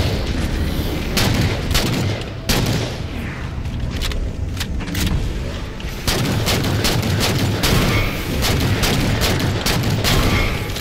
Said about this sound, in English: I'm getting my shots on with the DMR, so that's good.